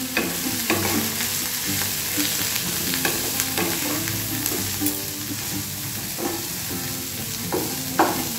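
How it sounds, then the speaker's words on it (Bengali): Cumin powder and asafoetida fry in hot oil in a pan with a steady close sizzle, while a spoon stirs and scrapes now and then across the pan, and nobody speaks. "দিয়ে দেবো একটু হিং, ব্যাস, দিয়ে আগে একটু ভেজে নেব"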